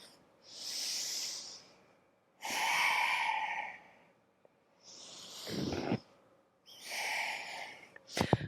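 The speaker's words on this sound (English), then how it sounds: "Exhale." Four long breaths, exhaled steadily during a gentle yoga flow, each a soft airy rush separated by pauses, with a sharper nasal puff near the end; close and fairly quiet, with no talking.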